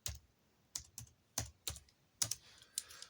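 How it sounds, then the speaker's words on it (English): Someone types a password on a computer keyboard, about seven distinct key presses at uneven intervals, close and clear with no one talking. "Let me type in my password."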